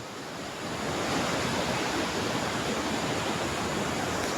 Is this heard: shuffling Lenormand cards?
no